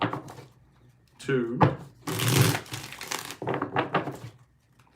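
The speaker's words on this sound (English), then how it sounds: "Let's get 3 more shuffles." Tarot cards being shuffled by hand in several short, dry, papery bursts, close by, while a voice counts between shuffles.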